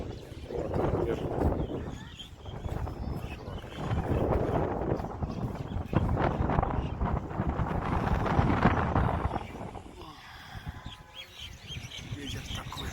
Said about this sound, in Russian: Ветер такой.